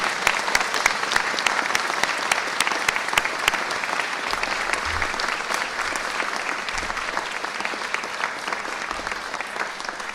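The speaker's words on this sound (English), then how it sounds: "please give a round of applause from the elected officials to all of you" Sustained applause from elected officials and a crowd at a bill signing for an assault weapon ban, a dense, continuous patter of many hands clapping at steady loudness for about ten seconds.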